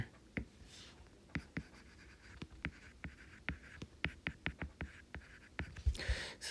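A marker taps and squeaks across a classroom board in quick irregular strokes, with short sharp contacts and pauses between words, fairly quiet and close.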